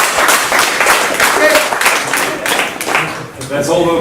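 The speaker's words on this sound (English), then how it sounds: "That's all the applause you've got to get there, Frank." An audience at a talk applauds briefly. The clapping is a dense patter that thins out as a voice speaks over it toward the end.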